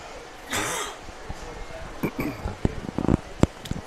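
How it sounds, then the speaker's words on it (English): A single sharp cough from a commentator, close to the mic, during a high school football broadcast of John F Kennedy HS at St Amant HS, followed by scattered short knocks and voice sounds. "His cough."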